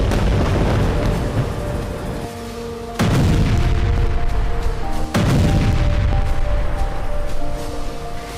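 Heavy bombardment by the Israeli army in Khan Younis: loud, close booming blasts, with two sharp impacts about two seconds apart over a continuous rumbling roar.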